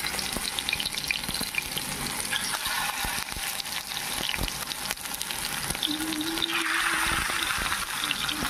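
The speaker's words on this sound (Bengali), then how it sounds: "তো এখন আমি একে একে তেলে ছেড়ে দেবো।" Pumpkin leaf fritters dropped into hot oil give a steady, close frying sizzle with bubbling texture throughout, no voices.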